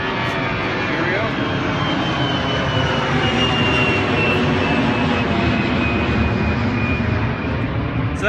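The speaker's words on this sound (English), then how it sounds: "So that plane was going over top" An airplane passes overhead with a broad, steady engine roar that stays loud and constant throughout, heard outdoors near a parked GMC Acadia.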